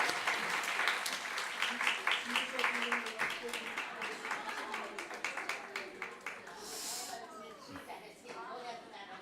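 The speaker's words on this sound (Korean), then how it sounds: "우리 다시 한번 박수해 주세요" Applause from a church congregation, a dense crowd clapping steadily and fairly close, with rhythmic claps standing out and fading toward the end, with voices faintly present.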